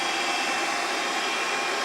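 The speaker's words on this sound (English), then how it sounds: "Having to thaw out the skull ship with a hairdryer is a pretty intense punishment" A cartoon hair dryer blows to thaw out a frozen skull ship, a steady, even whooshing roar with no other sounds.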